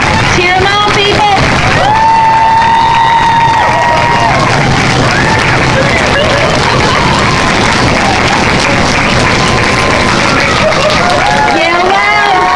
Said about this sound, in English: Cheer them on, people